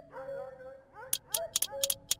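A voice imitates a frustrated dog during a My Summer Car play session, giving a string of short, sharp, yelping bursts after some low grumbling. The sounds are close and fairly loud.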